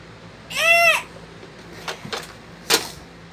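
A sheep in the Minecraft video game gives a single loud wavering bleat near the start, followed by faint clicks and soft game sounds.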